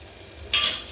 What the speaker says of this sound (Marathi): मस्तपैकी मसाला छान भाजला गेलाय